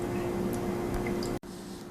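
Bread mash liquid being strained for home brewing gives wet squishing and dripping noises, a steady close liquid texture that cuts out briefly near the end before resuming.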